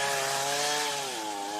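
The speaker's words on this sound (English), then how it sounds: "I don't know if you can hear me over the chainsaw" A chainsaw runs steadily and loudly at a building fire, its engine holding a sustained buzzing drone with a slight dip in pitch toward the end.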